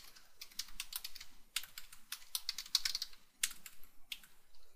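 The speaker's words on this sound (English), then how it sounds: "I'm going to type in my email and password like at least 50 times here." Typing an email address and password on a computer keyboard while signing into Chrome: rapid, close bursts of crisp key clicks in uneven runs with short pauses between them.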